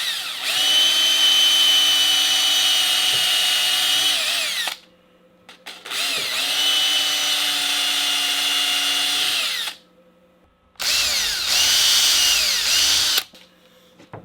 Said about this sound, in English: I'm going to drill the pilot holes.